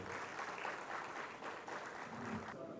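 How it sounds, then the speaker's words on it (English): Audience applause at an industry-academia technology symposium as a speaker comes up to the stage, a steady wash of many hands clapping that holds evenly throughout and thins slightly at the very end. "A round of applause for him as he joins us up here"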